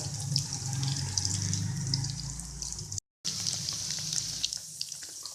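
Cheesy crunchy chicken drumsticks frying in hot oil, a steady close sizzle and crackle with a brief cut of silence partway through, the bubbling thinning slightly near the end.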